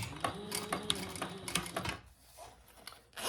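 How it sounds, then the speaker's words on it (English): A sewing machine slowly back stitches a 1/8-inch top stitch, its close, rhythmic clatter running for about two seconds before stopping, leaving quiet room noise. "I'm just going to do 1/8 of an inch, and I'm just going to go really slow. I am going to back stitch."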